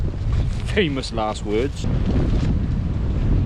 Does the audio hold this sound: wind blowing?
yes